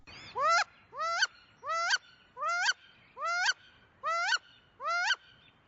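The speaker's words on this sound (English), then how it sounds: "Females utter a loud rising squeal" A female wood duck's loud rising squeal repeats seven times at a steady pace, each call sweeping upward sharply, alone with quiet pauses between.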